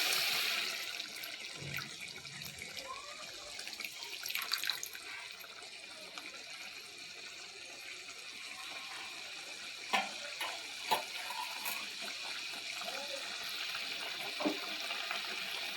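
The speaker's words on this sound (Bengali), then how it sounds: "গুলে রাখা তেঁতুলটা দিয়ে দেব" Dissolved tamarind liquid pours into a cooking pot, a faint, watery splashing and trickling that rises and falls over several seconds, with a few clinks and knocks of utensils.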